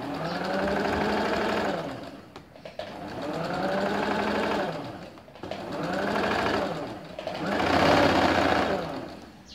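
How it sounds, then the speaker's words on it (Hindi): A sewing machine stitches a seam on straight-cut ladies' pants in steady bursts, a rapid mechanical whirr running for a couple of seconds, pausing, and starting again, loud and close. "अब जब ये सिलाई लग जाए किनारे पे, तब हम इसको इस तरफ और एक सिलाई ऐसे लगाएंगे"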